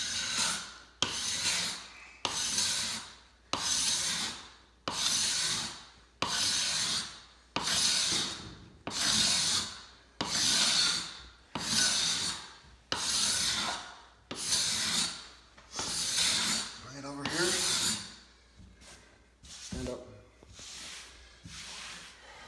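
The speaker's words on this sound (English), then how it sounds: "let me just show you an example of how much hard work it is to hand scrape it" A hand scraper is drawn across a hardwood floor in a steady rhythm of about fifteen long rasping strokes, each a loud, close, hissing scrape separated by brief pauses.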